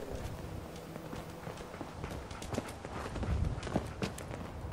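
Hoofed footsteps of a mutant cow in Fallout 4, a soft, irregular clopping and thudding that plods along, moderately near, under low background ambience.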